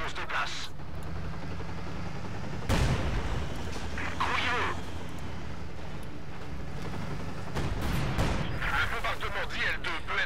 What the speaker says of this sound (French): Installez l'artillerie.